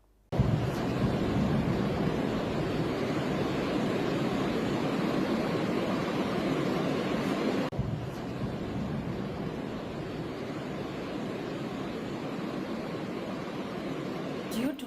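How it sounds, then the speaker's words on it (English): The La Paz River in southern La Paz, Bolivia, overflowing in a heavy rainstorm, a constant loud roar of rushing floodwater and wind-blown noise that holds steady throughout, with no voices. "the La Paz River overflowed, sweeping away several people and vehicles"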